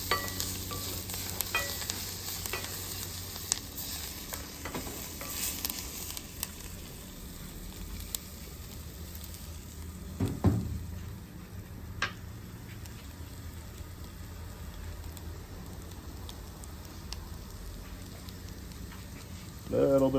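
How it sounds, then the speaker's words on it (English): Onions fry over high heat on an outdoor South African braai, giving a steady close sizzle with occasional stirring scrapes and clinks throughout. "Puts a little burning taste into these onions before we add our secret sauce."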